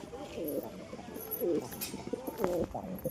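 A collected pigeon coos in repeated throaty, rolling phrases, several calls close by against soft background noise.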